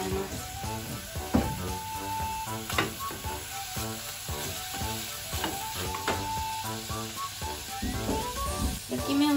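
Pork belly sears in a pan for braised kakuni, giving a continuous close sizzle and crackle. Scattered sharper spits rise above it, over a faint melodic background.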